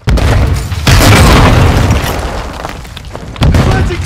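A grenade explodes in the video game Modern Warfare 2, a loud booming blast with a long rumbling tail, followed by a second sharp burst near the end.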